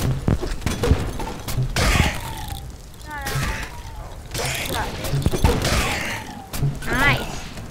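Rapid gunfire bursts in the Rec Room video game, loud, repeating in several clusters over the clip, with talking voices layered in between and over the shots.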